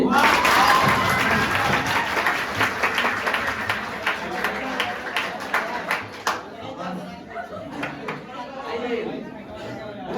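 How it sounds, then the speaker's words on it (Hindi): A Hindi class applauding: a loud burst of many hands clapping that thins into scattered claps over the following seconds, with chatter and voices mixed in throughout. "हिंदी क्लास के नाम पे जोरदार ताली बजाइए।"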